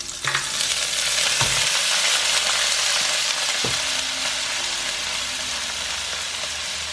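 Onion and peas frying in a hot pan for shrimp fried rice give a steady, loud sizzle, with a few stirring scrapes near the start.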